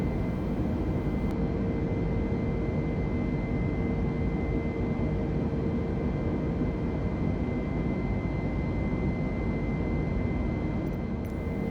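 Steady, loud, unbroken engine roar of an EasyJet Airbus A320 airliner climbing toward cruise altitude in Microsoft Flight Simulator, a constant broadband drone with no talk over it.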